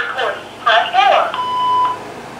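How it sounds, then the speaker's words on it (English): A recorded voice prompt on a BellSouth MH9934BK answering machine speaks briefly, then a single clear, steady electronic beep sounds for about half a second. "Please record your announcement after the beep."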